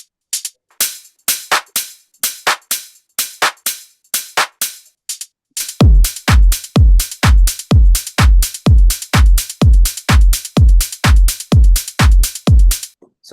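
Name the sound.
hi-hat group side-chained with pumping effect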